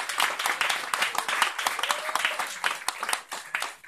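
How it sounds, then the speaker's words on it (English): A crowd claps at a 49th Precinct clergy council fellowship dinner: dense, lively applause with sharp overlapping hand claps that stays close and loud throughout. "let's give them a hand clap"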